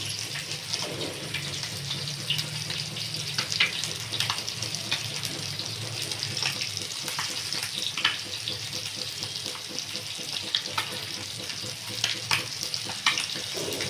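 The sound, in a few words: fish curry boiling in pan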